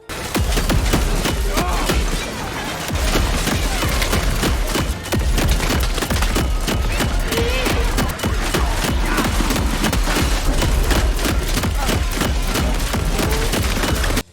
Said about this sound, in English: I think this is one of the best shotguns of all time. It just feels amazing to shoot